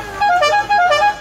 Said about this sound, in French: À la klaxon d'arrivée du Tour de France.